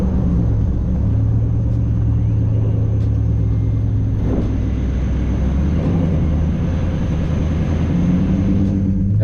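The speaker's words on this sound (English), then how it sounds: "That's the Mustang we just lined it up with" A Roush supercharged Ford Mustang's engine produces a loud, steady, low rumble that holds constant throughout, heard close up with no talking.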